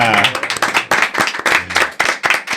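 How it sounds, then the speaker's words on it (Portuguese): A small studio audience applauds, with sharp, distinct claps in a quick irregular patter lasting a few seconds. "Queria pedir uma salva de palmas para nossa plateia."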